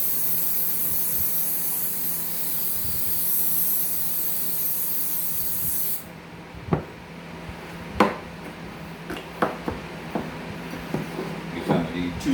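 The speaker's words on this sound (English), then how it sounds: "we're going to spray our safety dish with some pan relief here" Pan-release cooking spray hisses steadily onto a baking dish for several seconds, then stops, followed by scattered clinks and knocks of kitchenware.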